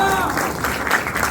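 A church congregation claps together in a dense, continuous wash of applause, loud and close, with voices faintly mixed in.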